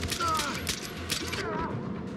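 Gunfire in the Far Cry 4 video game, several sharp shots and mechanical clatter in the first half, then quieter, fairly close and loud.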